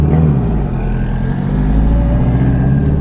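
An all-wheel-drive Honda Civic engine with an unfinished exhaust runs loud and close, a steady rumbling drone with slight shifts in pitch.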